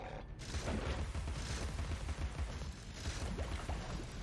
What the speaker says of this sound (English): I think it's because you shot him and he launched your fucking rounds back at you.